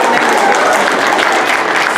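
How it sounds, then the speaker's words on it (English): A banquet crowd gives sustained applause for an award winner, a dense, loud, even patter of many hands clapping for about two seconds. "Give them a round of applause."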